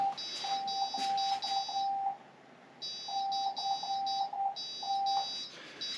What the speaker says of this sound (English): what you're hearing now is the little piezo buzzer